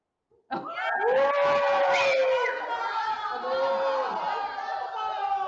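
Congregation crowd at a live INC Radio event in Lemoore, California, cheering and shouting together, a sudden loud swell of many voices that holds steady for several seconds.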